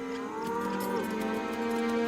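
Cattle on the prairie give a long, steady moo that carries clearly for about two seconds over a soft outdoor background.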